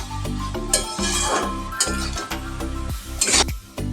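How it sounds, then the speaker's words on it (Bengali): Potato filling seasoned with black pepper and garam masala fries in a pan while a spoon stirs and scrapes it in intermittent bursts, set under steady background music. "ভালো করে ভেজে নিচ্ছি।"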